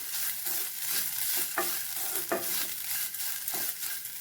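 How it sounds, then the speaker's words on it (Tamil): Grated coconut roasting in oil in a pan off the heat for rasam, giving a steady, close sizzle with occasional scraping stirs and light knocks of a utensil. There is no talk. "நல்லா வறுத்துக்கலாம் எண்ணெயிலே தேங்காயை"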